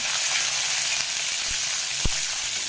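Cumin, mustard and fennel seeds spluttering in hot oil give a steady, close sizzle with a few soft pops and thuds mixed in and no talk over it.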